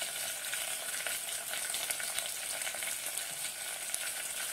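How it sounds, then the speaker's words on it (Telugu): Ingredients for a broad bean seed masala curry fry in a pan with a steady soft sizzle and faint crackling pops, quiet and continuous with no talk. "ఇది కొంచెం ఫ్రై అయ్యేటప్పుడు"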